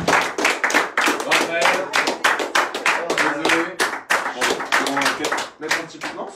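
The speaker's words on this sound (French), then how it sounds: "On peut les applaudir." Audience clapping after a live hypnosis show, a dense run of hand claps spread across the room, fairly loud and steady throughout with voices mixed in.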